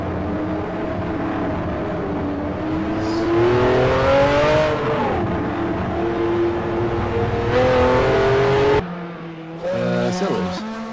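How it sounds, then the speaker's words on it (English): Engine of the number 11 Ferrari 512 BB/LM race car heard from the cockpit in a racing simulator at Mid-Ohio, a loud sustained drone rising and falling through gear changes, with voices talking over it. "Here's the view from John Newman's cockpit in the number 11 Ferrari 512 B12"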